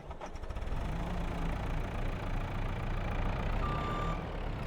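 A JCB machine idles in Farming Simulator 22 with a steady, low, throbbing engine drone, close and constant throughout, with a faint tonal whine over it.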